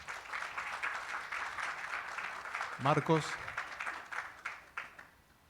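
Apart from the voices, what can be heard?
audience applause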